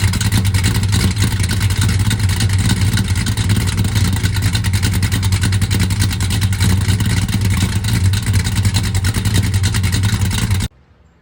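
A Hughes Whiplash Cuda drag car's engine idles cold while warming up, a loud, steady, close rumble that runs nearly unbroken, then cuts off abruptly at the very end.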